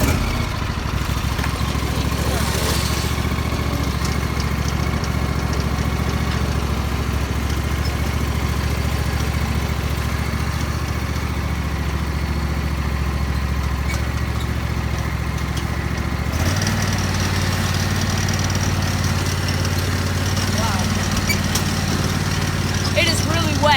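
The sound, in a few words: garden tractor engine started and running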